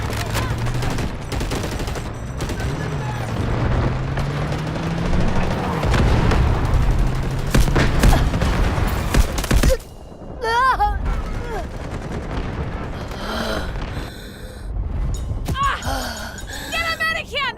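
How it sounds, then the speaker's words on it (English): Artillery barrage pounding a battlefield in the video game Delta Force, loud dense booms and rumbling blasts in rapid succession, then gunfire and radio chatter continuing after the shelling eases, with voices talking over it. "Artillery barrage incoming."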